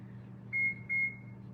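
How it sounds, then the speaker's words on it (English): A kitchen oven timer gives two short electronic beeps in quick succession as it is set while baking ricotta cookies, faint over a low background hum. "Timer."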